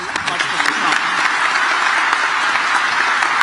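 An audience applauding a Donald Trump speech: steady, dense clapping from a large crowd, loud and close, filling the whole stretch without pause.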